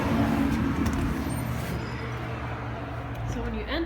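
Cars pass on the road in front of a house with a front deck, a moderate whoosh of traffic rising and fading, with one vehicle approaching near the end, heard from the porch.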